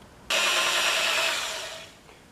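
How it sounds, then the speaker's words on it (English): A drill runs at low speed boring a small pilot hole in a cast kickstand on a Yamaha RD400. It starts abruptly with a high, whining buzz that holds for about a second and a half, then fades. "always drill a small hole first with a very low speed drill"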